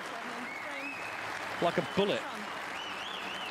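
Snooker crowd applauding a break-building clearance at the German Masters, a steady broad wash of clapping throughout with a commentator's brief voice rising over it midway.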